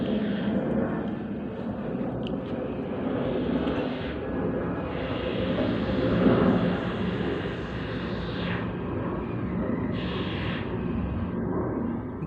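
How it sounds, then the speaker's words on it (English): An airplane passes overhead with a steady broad engine roar that swells slightly and then fades, continuous and fairly distant throughout. "the plane is going over as I say that"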